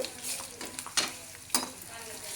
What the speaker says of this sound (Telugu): ఇలాగా చక్కగా ఇలా బాగా వేయించాలండి పోపు